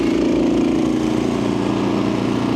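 A Honda HSS1332 ATD snowblower runs unattended, its small engine chugging loud and steady at close range with an even, throbbing idle-like drone throughout and no talking.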